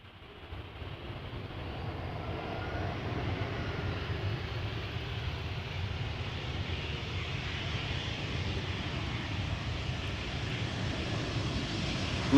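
An Airbus A319 arriving at Amsterdam Schiphol from Florence produces a distant jet rumble that grows gradually louder and holds steady as it approaches, with no voices present.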